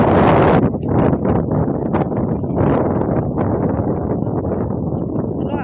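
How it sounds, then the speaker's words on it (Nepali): Strong wind sweeps across a hilltop village ridge on a morning, with a loud burst of buffeting gusts at the start, then steady roaring air with voices faintly mixed in. "ठुलो हावामा त बस्न सक्नु नि पर्यो।"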